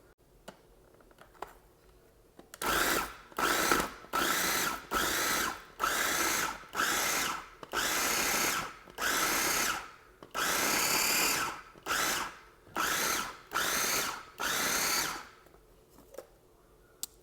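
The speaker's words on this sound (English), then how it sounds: "So now everything is in my food processor and it's ready for me to pulse a few times." Food processor pulsing meat pie filling in about a dozen short bursts, each a second or so, with brief silent gaps between them; loud and close.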